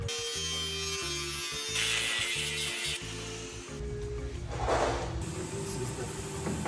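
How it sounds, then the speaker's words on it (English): Angle grinder cutting on Squarebody truck crossover steering parts, a close, steady electric whine with a pulsing drone that shifts pitch partway through as the cut changes. "Getting pretty good with that grinder though, I'll tell you that."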